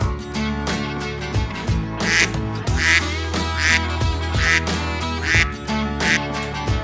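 A flock of Indian runner ducks quacks loudly and close up in a steady, repeating chorus that keeps going through the whole stretch, with no voices on top.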